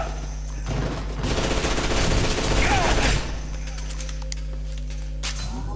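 Gunfire in the shooter game F.E.A.R. 2 comes as a dense burst of rapid shots lasting a couple of seconds over a steady low game hum, then fades to quieter ambience.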